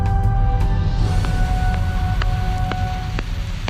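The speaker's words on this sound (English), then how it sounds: "It's alive with cosmic noise, a constant barrage of galactic white noise." Cosmic radio noise, galactic white noise from space, heard as a loud, constant rumbling hiss with a few faint steady tones and brief clicks running through it, and no speech.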